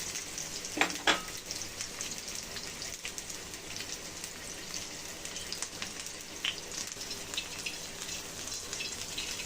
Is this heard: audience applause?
no